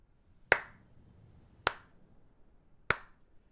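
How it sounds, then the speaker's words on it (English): Three slow, evenly spaced hand claps, sharp and close, ring out alone in a quiet room during a tabletop role-playing game session. "all of a sudden, you hear slow clapping."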